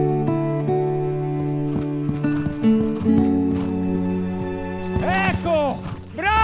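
A horse whinnies loudly near the end, following a stretch of hoof clip-clops and other clatter, with music-like tonal layers and occasional voices in the background.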